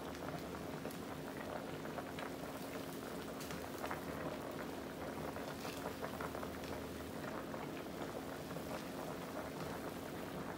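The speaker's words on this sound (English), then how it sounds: "let it boil for about 10-15 minutes" A pot of gumbo with shell-on seafood boils steadily, giving a continuous dense bubbling and popping texture at low level with no one talking.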